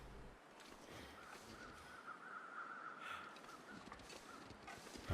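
Crows caw in the snowy wilderness of the video game The Long Dark, a few rough calls drifting over a steady hiss of wind, faint and distant, with no talk.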